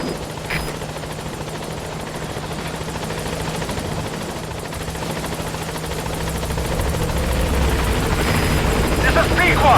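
Pequod, a military transport helicopter in Metal Gear Solid V: The Phantom Pain, thrums steadily as it closes on a landing zone, its rotor drone growing louder toward the end, with faint game radio talk underneath.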